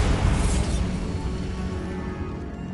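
A Bombarda spell blast in Hogwarts Legacy, a loud dense boom with rumbling low end and debris that stays heavy through the whole moment before slowly thinning out.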